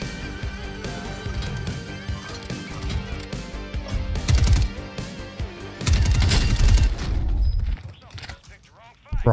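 Rapid pistol gunfire in Call of Duty Warzone, dense bursts of sharp shots and impacts over game music and effects, loud and close, with a louder flurry near the middle before fading.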